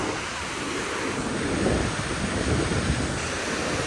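Continuous rushing water from a stream in Yosemite National Park, a steady broad roar like water pouring over rocks, close and loud without pause.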